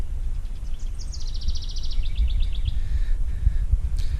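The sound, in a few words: birds chirping at Fort St. Joseph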